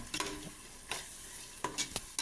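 Chili, coriander and turmeric powders fry in a pan with a soft, quiet sizzle, punctuated by several brisk stirring scrapes and clinks of a spatula.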